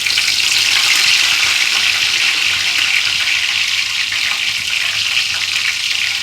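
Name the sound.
curry leaves sizzling in hot oil in a pan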